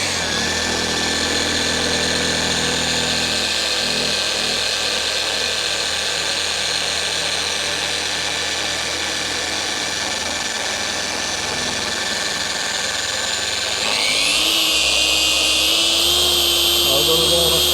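Car paint polisher running steadily on speed 2 while priming the pad, a loud close continuous whine that shifts pitch and grows slightly louder near the end, with speech present over it.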